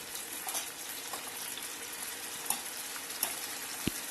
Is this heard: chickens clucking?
no